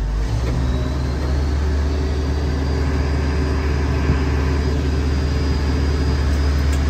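An IH 1460 combine engine runs at raised throttle to drive the unload auger, a loud, steady, close-up drone with no pauses or talking.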